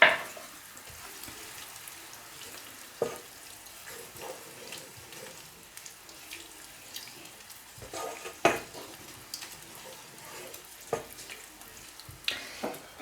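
Sweet paprika frying in oil in a pan, a steady soft sizzle with occasional stirring scrapes and clinks, fairly close and with no talk.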